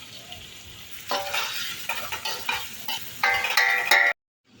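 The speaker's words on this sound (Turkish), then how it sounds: "Güzelce karıştıralım." Bursts of sizzling and scraping as tomatoes are stirred in a hot frying pan, utensil strokes coming in uneven waves before cutting off abruptly.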